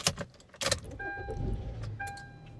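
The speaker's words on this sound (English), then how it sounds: "Let me start my car." A car is started from inside, with sharp clicks and jangling keys before the engine catches and runs into a low, steady idle, accompanied by a few electronic chimes.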